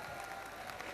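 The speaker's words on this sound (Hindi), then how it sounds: "तालियों का वॉल्यूम बढ़ाइए, मजा नहीं आया" Audience applause at a college session on mental health, a steady, dense wash of clapping from a hall full of people, fairly quiet and even throughout with no talking over it.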